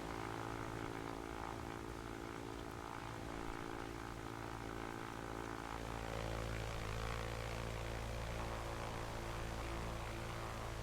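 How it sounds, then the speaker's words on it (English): A Cessna 172 landing in the X-Plane 11 flight simulator near New York, with a steady close propeller engine drone that continues without break and shifts slightly in tone partway through, no voices. "I will show you the replay of this nice and smooth landing."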